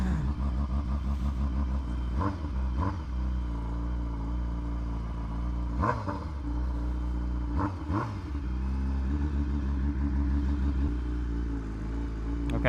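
A BMW HP4 Race motorcycle with a straight-pipe exhaust idles loud and close, with a heavy rumbling drone and several sharp throttle blips spaced a few seconds apart.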